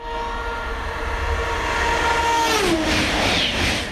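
A high-speed train on the Ankara–Istanbul line rushes past at close range with a loud, continuous roar and a sustained horn tone that bends downward as it goes by.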